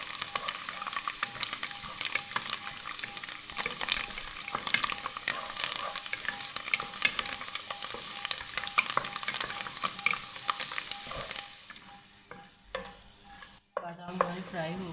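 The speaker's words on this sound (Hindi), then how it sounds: "बादाम हमारे फ्राई हो गए हैं तो अब हम इसको निकाल लेते हैं" Almonds frying and being stirred in a pan for a sweet vermicelli dish, a steady close sizzle with frequent scraping stir clicks throughout, easing off near the end.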